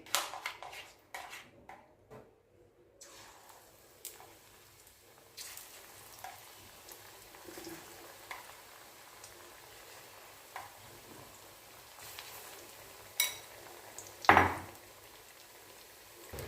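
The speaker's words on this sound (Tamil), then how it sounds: "நம்ம பக்கோடாக்கெல்லாம் போட்டு எடுத்துடலாம்" Pakoda fritters deep-frying in hot oil, a soft continuous sizzle with occasional clinks of utensils and a sharper clatter near the end, fairly quiet with no talking.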